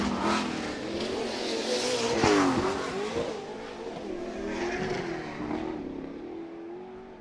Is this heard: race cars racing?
yes